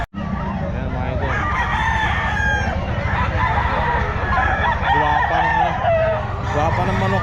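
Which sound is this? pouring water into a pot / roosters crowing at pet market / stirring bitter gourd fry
roosters crowing at pet market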